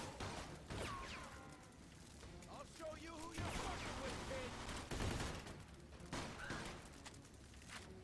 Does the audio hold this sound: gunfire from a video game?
yes